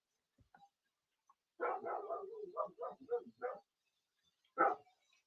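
A dog barks in a quick run of short, sharp yaps, then pauses before one last bark, somewhat distant behind a quiet room.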